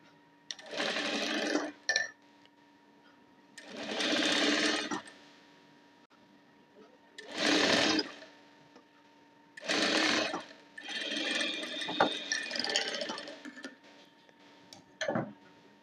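A sewing machine stitches a strip onto an unlined four-tuck blouse in several short, close bursts of rapid whirring, separated by quiet pauses, with a brief final burst at the end.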